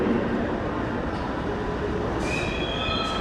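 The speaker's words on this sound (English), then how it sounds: "Gotta hop on the 7 train." A New York City subway 7 train rumbles loudly and continuously on the rails, with high metallic wheel squeals rising near the end and no talk.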